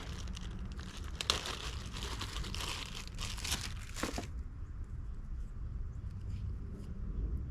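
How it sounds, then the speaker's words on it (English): Budding tape crinkles and rustles up close as it is handled and wrapped around an atemoya graft, busy for the first four seconds before falling to a quiet outdoor background. "My budding tape."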